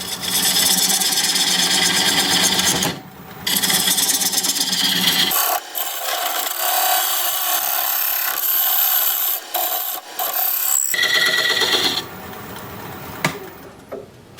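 A diamond point tool cuts apricot wood spinning on a wood lathe, a loud, close, continuous scraping rasp that shifts in tone as the cut changes, with brief gaps and quieter passes, no voices.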